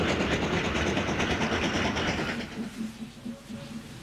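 A steam train runs downhill south of Masbury on the line toward Evercreech Junction, a steady rolling rumble with rhythmic clickety-clack of wheels over rail joints that gradually eases and fades.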